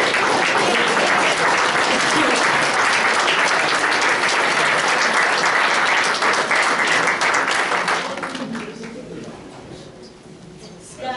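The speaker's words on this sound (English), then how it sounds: "Let's give them a round of applause." An audience at a Lutheran church anniversary dinner claps for charter members, dense sustained applause that carries for several seconds before thinning into scattered claps and fading out.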